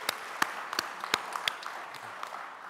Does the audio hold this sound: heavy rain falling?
no